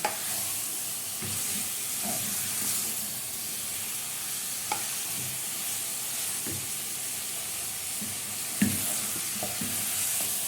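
Small pieces of kebab halla beef stir-fried in a pot, letting off a steady close sizzle and hiss with occasional scraping stirs and a sharp clack of the spoon against the pot.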